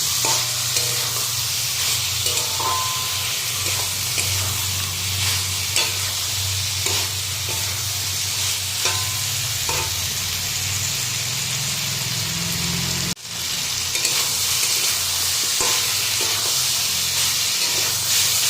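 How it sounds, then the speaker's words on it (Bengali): Soybean curry with potatoes frying and sizzling in a pan while a spoon stirs it steadily, a close, continuous hiss and sizzle with frequent scraping stir strokes and one brief dropout near the end; no one speaks. "এই দেখো সবিন তরকারিটা মানে কষাচ্ছি"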